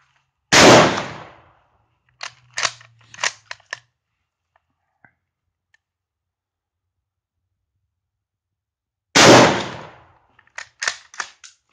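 Two loud, sharp rifle shots from an M1916 Spanish Mauser chambered in 7.62x51 NATO, spaced about eight seconds apart. Each blast is followed by clicks and clacks of the bolt being worked.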